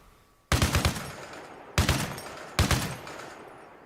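A vehicle gunner firing at targets in Arma Reforger, with three separate bursts of heavy automatic gunfire, each a rapid string of loud, close shots that fade into ringing echo.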